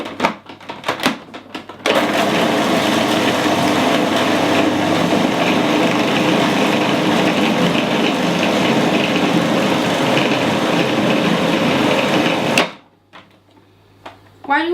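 Food processor whirring through chickpeas and thyme for burger mix, a loud, steady grinding roar lasting about ten seconds that starts and stops abruptly, with brief voice and kitchen sounds before and after.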